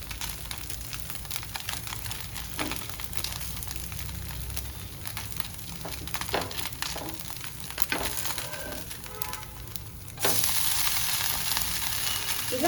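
Sri Lankan hoppers sizzle in a hot pan after being flipped, a steady close frying crackle with scraping and tapping, the hiss swelling louder near the end.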